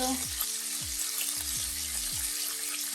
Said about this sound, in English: now we're putting our pork butt that we cut into small pieces into the skillet in the baking grease